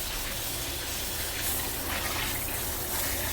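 Steady hissing spray of water, continuous and close, with no talking.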